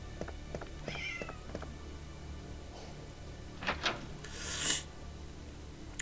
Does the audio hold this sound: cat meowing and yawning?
yes